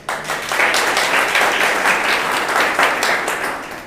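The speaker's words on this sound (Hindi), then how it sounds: "अब बजाओ जोरदार ताली" An audience at a distributor training program bursts into loud, dense applause that swells quickly and stays strong for a few seconds before easing slightly, heard close with no speech over it.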